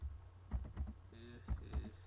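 Keyboard keys tapped in short bursts, a handful of quick clicks at close range, soft and low in level.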